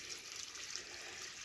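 Water from a spring source high in a Brazilian mountain range runs in a steady, close, unbroken trickle and splash, with no voices over it.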